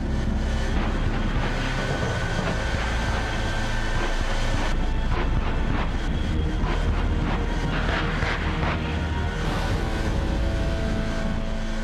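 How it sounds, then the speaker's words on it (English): A loud, sustained jet engine roar from a truck powered by three Pratt & Whitney J48 jet engines dominates throughout, a thick continuous blast of turbine noise with no speech. "This truck is powered by 3 Pratt & Whitney J48 jet engines"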